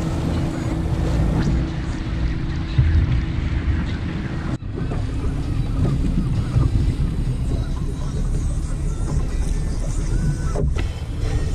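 A boat heads out of a marina channel near the Stony Brook Yacht Club launch ramp, its engine a steady low rumble under strong wind buffeting and lapping water, with a brief dropout midway.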